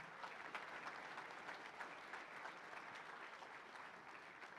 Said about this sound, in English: A big round of applause for these three